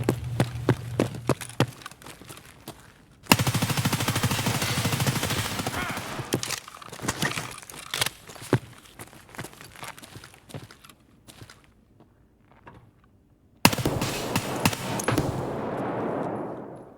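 Gunfire from a fight in the video game Escape From Tarkov: loud bursts of automatic fire and single shots, mixed with rapid footstep-like clicks and quieter gaps between volleys.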